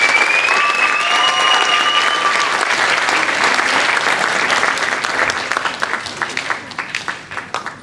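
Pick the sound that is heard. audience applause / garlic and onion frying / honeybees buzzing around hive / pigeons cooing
audience applause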